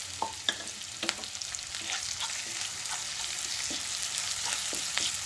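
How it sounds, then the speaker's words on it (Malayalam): Curry leaves crackle and spit as they hit hot oil, sharp pops over a dense continuous sizzle, close and fairly loud, with occasional stirring clicks. "സ്വല്പം കരിയാപ്പില ഇട്ട് കൊടുക്കാം."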